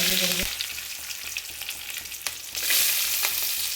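Curry leaves fry in hot oil for a fish curry, a close crackling sizzle with scattered pops that swells suddenly louder partway through, with no talking.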